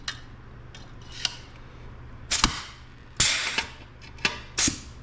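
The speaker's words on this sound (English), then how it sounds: "And we're going to take our rivet gun." A hand rivet gun sets a rivet into a 1967-69 Camaro/Firebird ashtray switch panel bracket, making a few sharp metallic clicks and snaps spaced over several seconds, close and fairly quiet with no talk.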